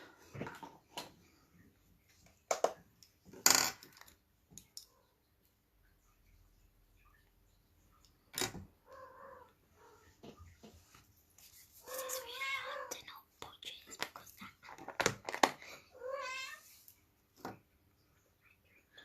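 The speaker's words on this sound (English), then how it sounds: "I've got kittens at the moment, and that's the mum you can hear in the background" Mother cat meowing at her kittens in the background indoors, with a few short, fairly faint calls spread across the stretch amid quiet room noise and occasional soft voices.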